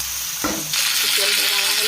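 Chopped onions dropped into hot oil in a pan for chicken curry, a brief clatter followed by a loud, bright sizzle that jumps up and holds steady.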